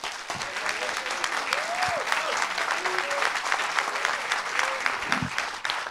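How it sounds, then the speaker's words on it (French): Steady, dense audience applause at a doctoral thesis competition, many hands clapping continuously at a fairly even level, with a voice speaking briefly over it. "Pour démarrer ce concours, je vous demande d'applaudir Clémentine Vallée."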